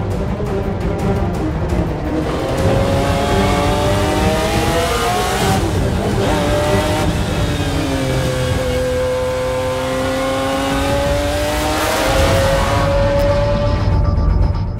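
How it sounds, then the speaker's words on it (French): McLaren F1 GTR race car lapping Laguna Seca circuit, its engine note rising and falling through gears in a loud, continuous run with sweeping pitch changes as it passes. "تشوفوا ميكا هاكينين ancien pilote professionnel و champion du monde de Formule 1 في ماكلارين Formule 1 GTR في سيركوي لاغونا سيكا"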